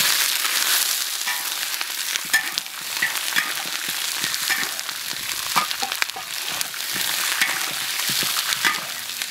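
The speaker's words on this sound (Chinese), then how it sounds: "给它稍微煎一下，这样味更香" Pork ribs sizzle and fry in a pan at close range, a loud, steady crackle with stirring scrapes and bursts of spitting fat throughout.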